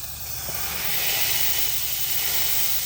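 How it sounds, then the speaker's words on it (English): A beef patty pressed down onto onions on a hot cooking surface for a patty melt gives off a steady, hissing sizzle that swells slightly and holds without talk. "press our patty down. Right into those onions."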